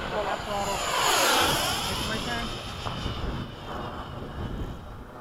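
F-5 jet and P-51 Mustang propeller aircraft flying low in formation, a loud engine roar swelling and sweeping past, then easing into a steady drone, with voices talking underneath.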